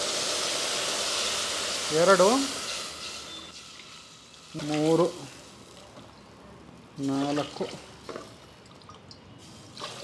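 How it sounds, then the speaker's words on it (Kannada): Cupfuls of water are poured one after another into a cooking pot of roasted moong dal for pongal, each pour a short hissing splash, while a voice counts between the pours. "ಸೇಮ್ ಕಪ್ಪಲ್ಲಿ 5 ಕಪ್ ನೀರು ಹಾಕ್ಕೊಳ್ತಿದ್ದೀನಿ"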